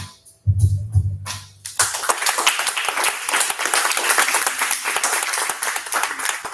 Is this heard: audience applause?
yes